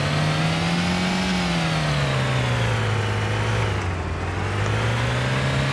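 A car engine in the game ARMA 2 DayZ drones loud and constant from inside the vehicle, its pitch sagging slightly and recovering as the car drives on, with no other sounds.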